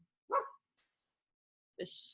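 Dogs give two short, sharp barks or yips separated by a pause, fairly quiet and somewhat distant in an otherwise silent room.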